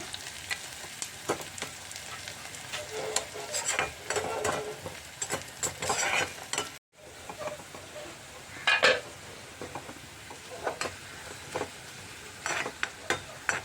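Onions frying in hot oil for tempering a Kerala ash gourd curry, a steady close sizzle with bursts of crackle and occasional stirring scrapes and clinks of a spoon against the pan.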